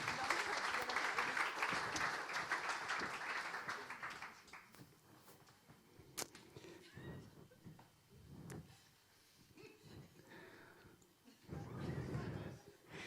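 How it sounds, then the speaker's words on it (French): A conference audience breaks into dense applause that lasts about four seconds, then fades to quieter room shuffling and movement with brief, faint speech, recorded at a low overall level. "Je vous demande d'applaudir Géraud de Vaublanc."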